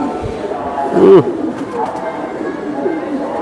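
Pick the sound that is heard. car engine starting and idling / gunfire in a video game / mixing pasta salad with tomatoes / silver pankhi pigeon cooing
silver pankhi pigeon cooing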